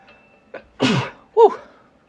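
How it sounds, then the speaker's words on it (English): One person sneezes: a short sniffing intake, then a loud, breathy burst, followed by a voiced exhale, all close up in a quiet room. "I gotta sneeze."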